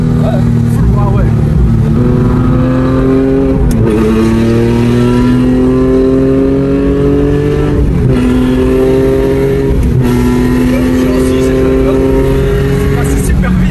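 Porsche 996 GT3 flat-six engine revving hard through repeated upshifts from inside the car, a loud, rising, raspy howl that drops at each gear change, with people talking over it.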